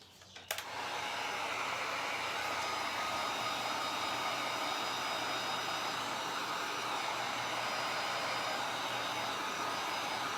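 A blow dryer roars steadily and close for about ten seconds, drying a second coat of paint on a cross decoration, starting after a brief click.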